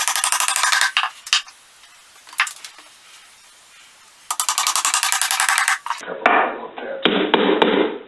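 Dowels hammered into a pre-drilled wooden bird house, rapid bursts of close, sharp hammer blows separated by a quieter gap, followed by a few scattered taps and rubbing knocks.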